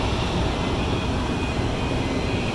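Constant broad roar of airliners at Zurich airport's runway, heard from a nearby vantage point, steady and loud with no break.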